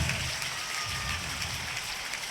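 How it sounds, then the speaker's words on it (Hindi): A seated audience at a Hindu religious discourse (katha) applauds in a steady, distant patter that sounds faint and diffuse, like rain, throughout. "इसलिए जोरदार तालियां बजाएं आप।"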